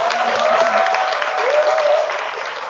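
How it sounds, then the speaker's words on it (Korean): An audience at a team seminar event applauds steadily for several seconds, a broad, even clatter with a sustained tone and faint voices beneath. "우리 박수 한번 부탁드릴게요."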